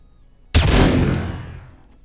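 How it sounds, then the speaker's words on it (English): A single loud shotgun blast in the video game Hotline Miami, a sudden close bang that rolls off into a fading roar over about a second and a half. "shockwave of shotguns right now"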